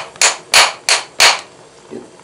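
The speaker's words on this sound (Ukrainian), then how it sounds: "Тепер беремо молоточок і припіднявши легенько," Four sharp taps of a small hammer on a beehive lid during autumn oxalic acid treatment at an apiary, loud and close in an uneven rhythm, followed by a faint softer knock.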